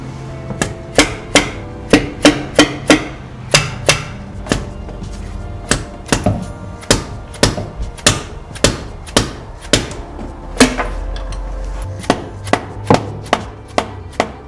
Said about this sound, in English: hit all of the tops of the valves here with a hammer